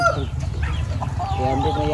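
Chickens on a Filipino poultry farm with native birds and breeders cluck and call continuously, close and fairly loud, over a low steady background hum.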